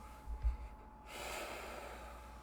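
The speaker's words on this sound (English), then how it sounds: "so I'm a little heavy breathing right now" Heavy breathing from a man just after being sick, a couple of loud snorting breaths close to the microphone, then a long exhale trailing into quiet.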